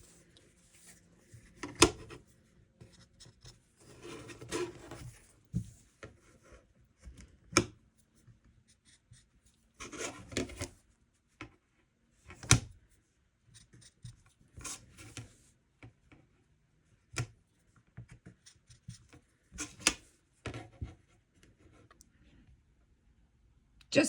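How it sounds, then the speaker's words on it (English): A chalk pencil drawn across fabric to mark pieces for cutting, giving scattered short scratchy strokes in irregular bursts, close and fairly quiet, with pauses between marks and no talking. "this is the Bowl & Chalk pencil, just to make my life super easy"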